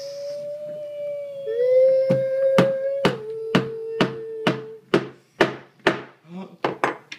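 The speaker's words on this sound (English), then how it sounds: "Get your hammer." A child hammers a nail into wood while building a toy fire truck, giving about a dozen sharp, close knocks that speed up toward the end, with a high, held vocal tone sounding beneath the early strikes.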